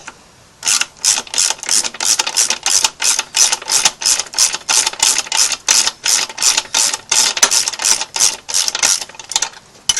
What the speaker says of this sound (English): put a 12mm socket here on the back so you can loosen this up as well